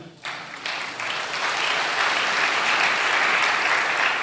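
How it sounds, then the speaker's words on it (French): A church congregation breaks into applause during a sermon. The sound rises quickly into loud, sustained clapping mixed with cheers that fill the room. "Neuvièmement, acclamez pour vous-même."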